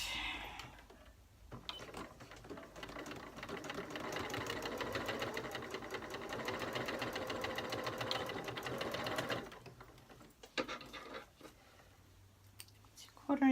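A sewing machine runs a steady rapid stitching burst of about eight seconds while sewing a quarter-inch seam on a dress neckband, then stops, leaving faint handling noises and a quiet room.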